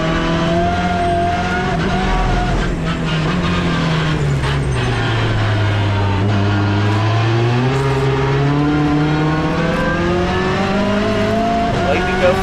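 Onboard sound of a TCR touring race car on track, its engine droning loudly and continuously as revs dip and climb out of a hairpin, with a commentator talking over it.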